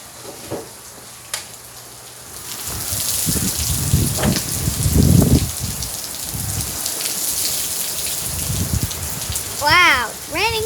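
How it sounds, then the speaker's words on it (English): Heavy rain hisses steadily across the whole stretch, with scattered thumps and rustles nearby and a brief squeaky warbling at the end; a person is talking in places. "Wow, it's raining so hard."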